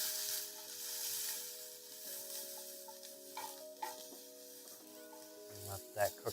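Garlic and browning onions sizzle softly in a pan while being stirred, with a quiet hiss and occasional scraping knocks, ending in a couple of louder clunks.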